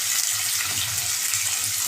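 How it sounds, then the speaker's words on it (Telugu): Onions frying in hot oil make a steady, dense sizzle that stays even and close throughout, with a faint low rumble beneath. "చూడండి ఫ్రెండ్స్, ఉల్లిగడ్డలు బాగా నూనెలో వేగేంత వరకు వేగనివ్వండి"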